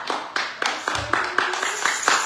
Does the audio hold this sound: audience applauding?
yes